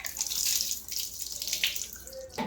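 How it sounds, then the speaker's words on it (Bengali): Water pours and splashes while a child's head is washed at home, a soft, uneven stream with a few brief spatters and a final louder gush, close and fairly quiet, with no voices. "দেখি মাথাটা ধুয়ে দিই"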